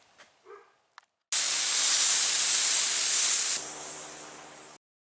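A spray gun lays Aerocoupe clear coat onto a fiberglass dash pad in one continuous, loud, close airy hiss of about three and a half seconds that eases slightly before stopping, following a few faint handling clicks.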